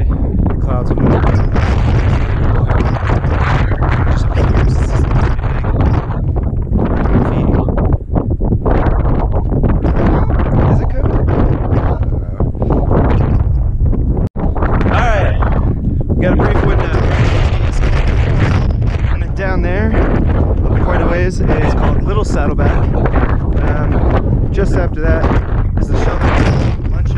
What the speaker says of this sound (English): the wind's pretty good